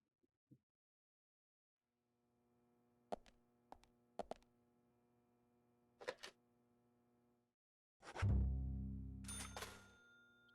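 Payphone tone inside a house in the video game Deadly Premonition, a steady electronic hum that starts after a short silence, with several sharp clicks over it and a loud thump near the end.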